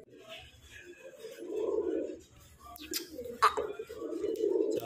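Soft, low cooing from an old pigeon perched on a rooftop close by, a couple of rolling coos over faint outdoor background noise.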